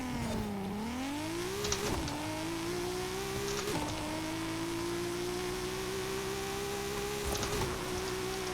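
A 2012 Nissan GT-R Black Edition in Forza Horizon 5 launches at a drag strip, its engine rising in a continuous whirring rev with brief dips at each gearshift, loud and sustained.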